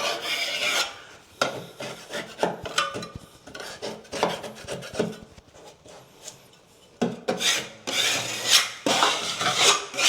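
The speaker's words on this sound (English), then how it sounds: "This stuff sands nicely." Drywall patching compound is hand-sanded in repeated rasping strokes, close and irregular, with short pauses between bursts of scraping.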